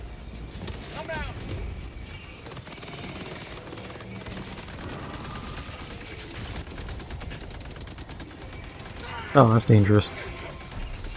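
An automated sentry turret in Helldivers 2 fires amid a busy battle, with rapid gunfire crackling under steady voices and a loud, close burst of shots near the end.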